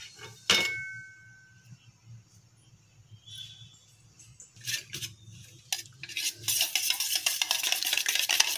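An egg being stirred with a little sugar in a bowl for a simple bachelor recipe: repeated soft clinks and scraping of the utensil against the dish. The stirring grows louder and faster toward the end, with no talk.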